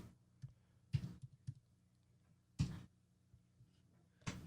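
Keys clatter on a computer keyboard as a product name is typed into an inventory search, a few quiet scattered clicks interrupted by three sharper, louder bursts.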